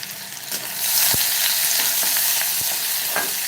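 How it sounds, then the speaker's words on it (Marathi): Chopped onions with four finely cut green chillies sautéing in a pan for aloo palak, a bright steady sizzle that swells louder, with occasional scraping stirs. "चार बारीक चिरलेल्या हिरव्या मिरच्या घालायच्या आहेत आणि कांद्याला चांगला परतून घ्यायचं आहे"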